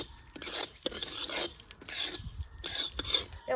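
Mustard seeds roasting in a pan for a rustic village-style chutney, a dry rasping crackle with scattered small pops in repeated bursts, close and fairly quiet with no voices.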